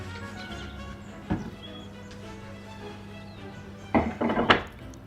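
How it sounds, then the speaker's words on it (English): Metal spoons and kitchenware clink and clatter as they are put away at the back of a farmhouse kitchen, with a sharp knock early on and a busier cluster of rattles near the end over a steady low hum. "And then my spoons go at the back as well."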